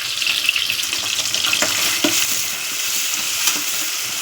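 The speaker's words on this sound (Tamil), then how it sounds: "நல்லா வதக்கி விட்டுக்கோங்க. தக்காளி நல்லா வதங்கட்டும்." Tomatoes and onions with salt sautéing in a pan for a brinjal thokku, giving a steady loud sizzle with occasional scraping stirs, close up and without talk.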